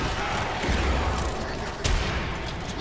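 Sustained gunfire in a video game defense mission, dense rapid shots and a heavier thump or two rolling over each other loudly, with no clear talking.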